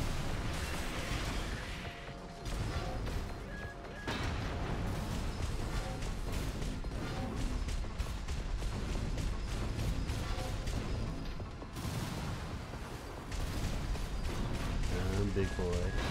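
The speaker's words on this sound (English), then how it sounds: "Oh, I love my big dumb cannon." A big cannon fires in the mech combat game Armored Core VI, heavy booming blasts and mechanical crashes layered over a loud, dense music and effects mix with short dips between salvos.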